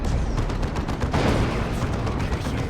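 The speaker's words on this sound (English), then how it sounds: "That front-mounted las cannon getting shots in, of course." A front-mounted las cannon on a tank fires in the strategy game Warhammer 40,000: Dawn of War 2, making a loud dense barrage of blasts and booms that merges into continuous battle noise.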